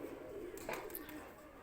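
Pigeons coo softly on an Islamabad rooftop where birds are kept for pigeon-flying, a few low throaty calls rising in the middle of a short stretch over faint background murmur.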